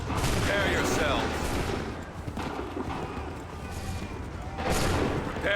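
Repeated musket volleys crack out in Assassin's Creed 3, loud and close, with massed bursts near the start and again near the end, blending into battlefield noise and shouted commands between them.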